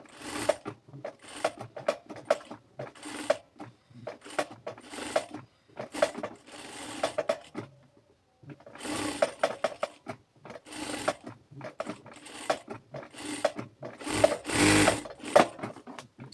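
A sewing machine stitches the neckline piece of a kameez onto the fabric in short, rapid mechanical bursts with brief pauses between runs. The whirring is close and clear, with no talking.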